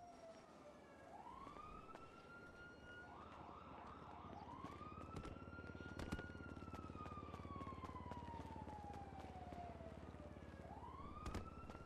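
A mechanic's vehicle siren in the video game GTA V wails, rising and falling in long sweeps, with a brief burst of rapid yelps, steady and fairly loud over a low engine hum.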